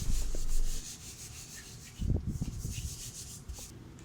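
A soft clay bar rubbed by hand across the painted body of a classic car, giving short, dry scuffing strokes in two close bursts separated by a quiet pause, fairly faint.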